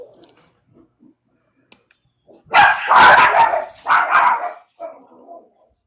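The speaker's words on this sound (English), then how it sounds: "Yeah, there's the dogs." Several dogs bark in a short, loud burst of overlapping yaps, followed by a couple of fainter barks, against an otherwise quiet background.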